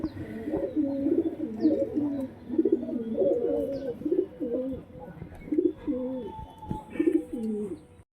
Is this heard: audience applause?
no